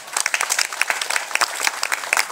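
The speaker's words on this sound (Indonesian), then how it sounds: "Tepuk tangan lu Bapak Ibu." A crowd at a Hindu dharma talk in Java or Bali claps in a close, lively burst, with sharp individual handclaps standing out in an uneven patter.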